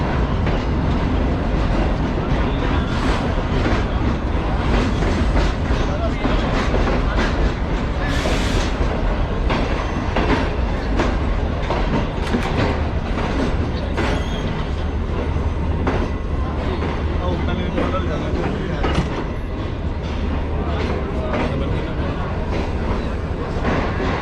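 A train on Pakistan's railways with new Chinese-built coaches rolls into Rawalpindi railway station, its steady loud rumble and clickety-clack of wheels filling the whole stretch, with a brief brighter squeal partway through.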